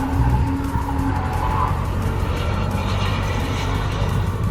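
A drift car on a track, skidding with tires squealing over continuous loud engine roar that stays steady and close throughout, with no talking.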